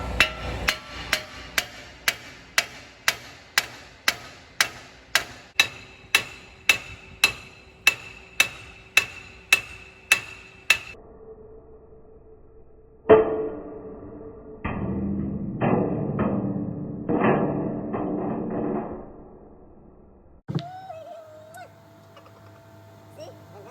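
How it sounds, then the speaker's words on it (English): A hammer strikes the front wheel hub of an Infiniti QX56/QX80 in a steady run of about twenty sharp, ringing blows, then a pause followed by a few heavier, noisier knocks and scraping. "So we just have to hit this guy. Beat it around with this hammer."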